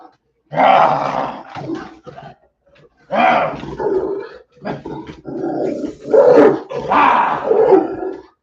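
A pet dog growls and snarls in bursts while roughhousing with its owner, close and loud, with rough throaty rumbles broken by short pauses.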